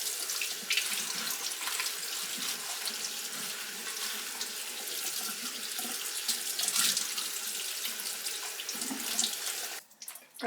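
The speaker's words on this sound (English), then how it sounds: "Just rinse it a little bit with cold water." Cold tap water runs steadily into a kitchen sink while mushrooms are rinsed, a continuous close splashing hiss with slight shifts as the stream hits them, ending with a brief clatter.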